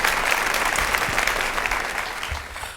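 Studio audience applause continues for martial artist and actor Michael J. White, a dense wash of clapping that slowly fades toward the end, with faint voices underneath.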